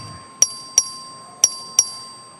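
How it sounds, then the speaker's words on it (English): In the Texas House chamber, the clerk rings the voting bell for a record vote: four sharp, bright metallic dings in two quick pairs, close and clear against a quiet room. "The clerk will ring the bell."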